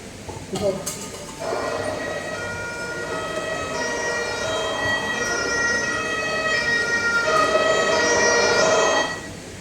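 An ambulance siren sound effect played during a stage skit for Organ Donation Day wails with a steady, loud tone for several seconds, then cuts off abruptly.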